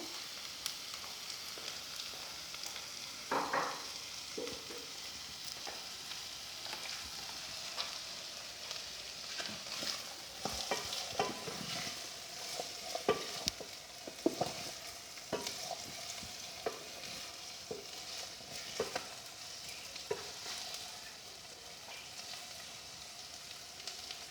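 Onions fry in a pan, giving a soft, continuous sizzle that is fairly quiet and close, with scattered scraping stir strokes and occasional clinks of the spoon, and no voices.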